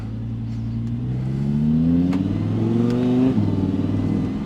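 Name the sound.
supercar engine revving while accelerating in manual mode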